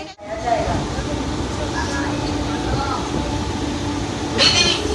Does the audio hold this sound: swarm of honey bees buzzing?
no